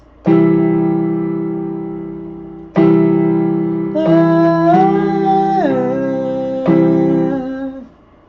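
A loud three-note keyboard chord is struck and held, then struck again several times, with a sliding tone shifting partway through before fading.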